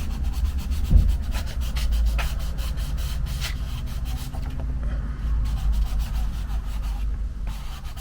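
Pastel being rubbed into paper during a painting: a steady, close scratchy rubbing with quick repeated strokes and one soft thump near the start, no talking.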